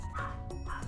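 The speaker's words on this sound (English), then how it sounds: "I'm sorry about the dog barking." Dog barking in a room, two quick yipping barks close by, heard in a short burst without talk.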